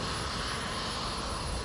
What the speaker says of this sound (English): The C-17 cargo plane is the workhorse of the military.